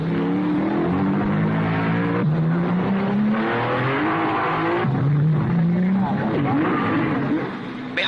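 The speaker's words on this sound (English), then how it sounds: "And again, Castellotti has passed Moss into second place" Racing cars of the 1955 Monaco Grand Prix, including a Lancia, roar past in a continuous loud engine drone with rising and falling pitch, under a commentator's voice.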